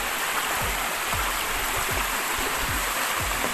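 A water stream flowing near a waterfall on a hiking trail, a constant close rushing wash with soft rhythmic low thumps underneath and no talking.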